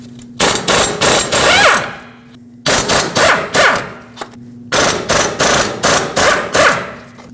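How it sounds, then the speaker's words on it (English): On a Nissan Frontier knuckle, a powered 17mm socket hammers out the hub and bearing bolts in three loud, close bursts of rapid rattling impacts, separated by short pauses. "We'll use a 17mm socket and remove all 4 bolts that hold the hub and bearing assembly onto the knuckle."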